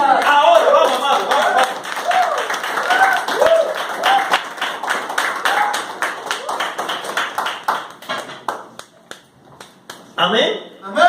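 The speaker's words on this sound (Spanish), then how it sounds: "Den un aplauso a Cristo Dios" A church congregation claps in praise during a Spanish-language service, with loose, sharp hand claps under a preacher's loud speaking and shouting that continues throughout.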